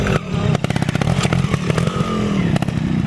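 A trials motorcycle rides a section of a green 50-50 competition course, its engine close and loud with rapid rhythmic blips and revs, punctuated by clattering knocks.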